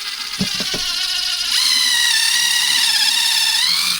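A close, high-pitched power drill whirs steadily after a few brief knocks, its pitch rising slightly as it runs.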